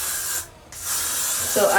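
Got2b Freeze Blast hairspray hisses from an aerosol can in two steady, close bursts with a brief pause between them, loud and breathy, and no talking.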